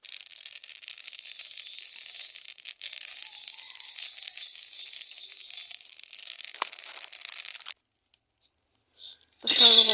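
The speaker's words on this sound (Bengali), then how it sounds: "আমি শুকনা কড়াইতে আগে কালো জিরাটা ভেজে নিলাম" Dry black cumin seeds crackle and hiss in a hot, dry pan, a steady sizzling rustle that stops abruptly before a voice briefly speaks at the end.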